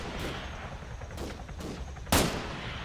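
Gunfire in a video game aimed at hooks: a few sharp shots spaced out over a low, rumbling game background, the last one loudest and closest.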